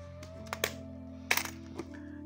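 Metal coins clink and tap together as they are handled while a coin lot is sorted, with several sharp, separate clicks over a quiet, faintly humming background.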